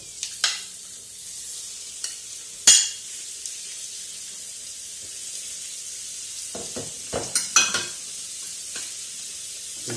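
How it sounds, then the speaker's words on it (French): Marinated chicken lands in a hot pan with browned shallots over high heat, giving a steady soft sizzle broken by a few sharp clacks of a utensil against the pan and stirring sounds. "maintenant je vais rajouter la viande marinée"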